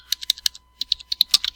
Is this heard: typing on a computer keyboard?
yes